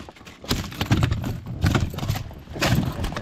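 A pike flops and thumps against the inside of a boat on a remote wild lake, three bursts of irregular slapping and knocking, close and fairly loud, with no talk.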